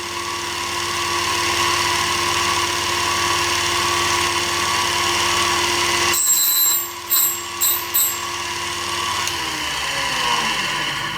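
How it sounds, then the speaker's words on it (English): A bench grinder wheel hums steadily and loud while a drill bit facet is ground in a DIY collet-assembly fixture, then drops off and gives a few short bursts of contact. "you just run the whole assembly back in front of the wheel again and that will grind the primary angle in the right place"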